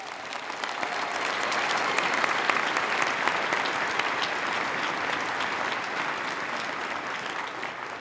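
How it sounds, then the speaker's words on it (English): A large crowd at an Oregon Tech commencement in Klamath Falls claps steadily for graduating students. The dense, sustained applause holds at an even level for about eight seconds with no voices on top. "Please help me welcome and congratulate these students with another round of applause."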